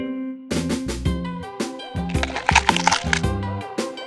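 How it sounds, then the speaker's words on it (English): Someone eats a crunchy snack, making a run of sharp, crackling bites and crunches over light tonal music. "The sound of eating snack."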